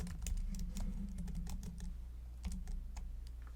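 Fingers type a password on a computer keyboard, a quiet burst of quick, uneven key clicks that pauses briefly and then resumes, with no speech.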